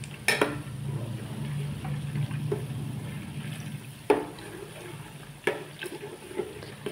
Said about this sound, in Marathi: खाली चिटकुनी म्हणून असं बसवायचं, हलवायचं, उलटून मार पातेल्याला खाली चिटकत नाही म्हणून